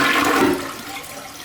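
An American Standard ActiFresh toilet flushes close by, with a brief loud rush of water that fades into a softer draining swirl, alone.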